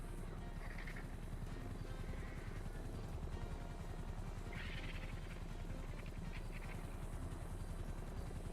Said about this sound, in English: But you come here and you call a helicopter.